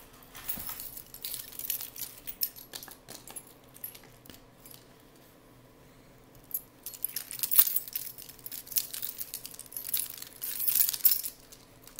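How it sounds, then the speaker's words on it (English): A bunch of keys jangles close by during a trading card box opening, with light metallic chinks that come and go and grow busier toward the end, with no voices. "Sorry about the noise from the keys."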